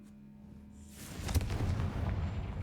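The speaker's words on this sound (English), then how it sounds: "It is just explosion." An explosion from the Bombarda spell in a video game bursts out of near silence into a deep rumbling boom that keeps rolling loudly to the end, with no talking.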